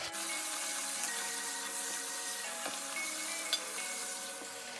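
Yellow pumpkin halwa is stirred steadily in a pan, a soft continuous sizzle and scraping texture with occasional faint clicks, close and alone without any voices.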